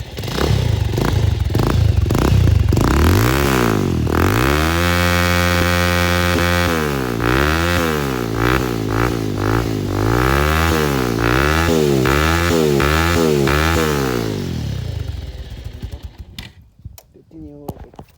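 A motorcycle with an aftermarket silencer meant to give a bubbling exhaust note revs nearby, loud rising and falling engine sweeps with a burbling rasp, fading to crackles at the end, with talk over it.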